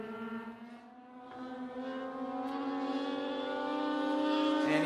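Race cars at Tucson Speedway accelerating out of turn 4 in a NASCAR Weekly Series event, a loud sustained engine drone that rises steadily in pitch and volume as the pack pulls away, with no talk over it.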